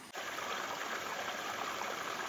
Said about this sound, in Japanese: 小川も流れる美しい庭園で心が落ち着きます。